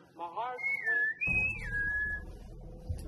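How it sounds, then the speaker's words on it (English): A person whistles a short, clear melodic phrase of rising and falling notes at moderate loudness, with a low rumble of room noise underneath. "he doesn't really like it when you whistle"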